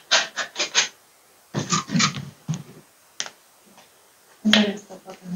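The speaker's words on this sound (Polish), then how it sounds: "A ja pracowicie przyklejam strukturę gąbką." A sponge dabs texture paste onto a painting in quick soft bursts, a cluster of four, then several more after a pause, close and fairly quiet with short scratchy rubbing between them.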